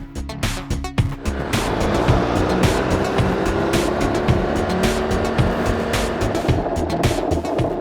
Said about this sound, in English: we are applying the front brake in a controlled and most efficient manner.